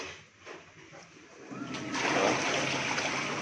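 A strong water jet sprays inside a Panasonic top-load washing machine during deep cleaning, starting as a softer splatter and swelling after a second and a half into a loud, steady hissing gush close by.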